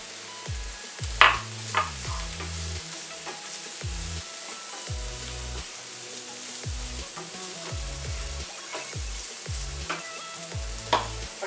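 Kakora (spine gourd) frying in oil with asafoetida, a moderate sizzle running throughout beneath repeated metallic scrapes, clanks and pings of a utensil stirring in the pan, with no talk.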